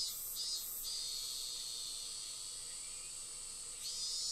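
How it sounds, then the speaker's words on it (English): Higurashi cicadas chirping outside on a hot early-summer day in a video game, a steady high shrill drone with a few pulsing swells, continuous throughout with no talk. "I could hear the Higurashi outside chirping"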